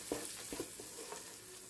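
Efo riro vegetable sauce frying with crayfish powder in a pot, a steady low sizzle with a few soft stirring scrapes at a moderate distance.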